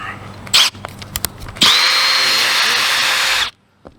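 Cordless power drill backing a screw out of RV interior trim: a short whir, a few clicks, then a steady loud whine of about two seconds that stops abruptly, close up.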